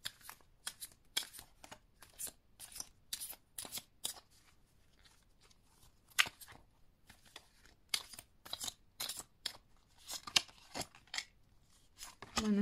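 Tarot cards being shuffled and drawn, a quick run of crisp riffling and snapping card sounds in irregular bursts, close but fairly quiet, with no talking.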